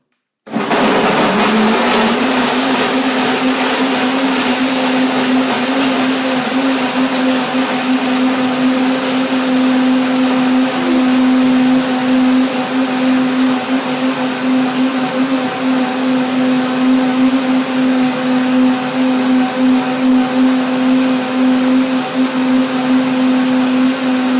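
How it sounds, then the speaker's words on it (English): A kitchen blender spins up and runs continuously while making a strawberry tart, a loud steady whirring motor with a constant droning pitch that never lets up. "But I'll open it in a moment after the blender ends."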